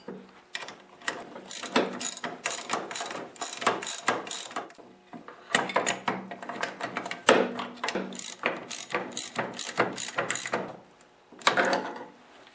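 Ratcheting and mechanical clicking while an adjustable wrench tightens the friction disc on an Ariens snowblower and its wheels are turned. Loud bursts of rapid clicks come in rhythmic runs with short pauses, close by.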